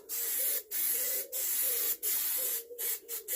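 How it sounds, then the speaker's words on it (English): Halfords aerosol spray paint hisses out in several long, steady bursts with short breaks between them, used while painting and priming a John Deere 115. The spray is close and fairly loud, and no one speaks. "I've never used these Halfords aerosols before."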